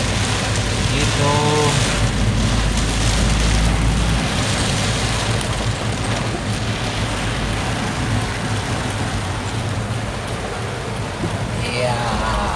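Heavy rain pours steadily on surfaces in Serpong, a dense unbroken hiss lasting throughout, with strong wind and faint voices under it.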